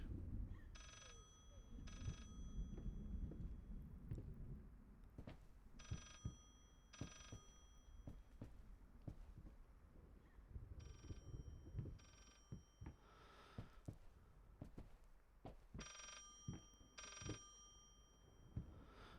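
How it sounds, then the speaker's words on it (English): Telephone ringing in the horror video game Layers of Fear, repeated bursts of an old-style bell ring in a regular on-off rhythm, fairly faint and distant, over low rumbling ambience with occasional footsteps and knocks. "Another phone is ringing."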